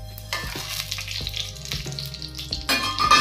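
Cumin seeds and whole spices crackle and sizzle in hot oil, a steady frying hiss with small pops, rising louder near the end.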